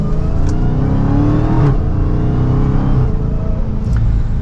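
A Dodge Charger SRT Hellcat Widebody Jailbreak pulls away from second gear under mild throttle, its loud V8 exhaust droning steadily with a rising engine note and short breaks at the gear shifts.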